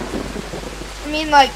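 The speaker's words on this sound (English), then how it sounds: "It's raining though." Rain falling outdoors at a wet campsite, a soft, continuous hiss under a man's brief speech, with a rising whine near the end.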